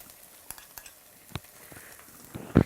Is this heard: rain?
no